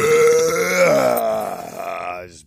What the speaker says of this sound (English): I just burped in your face.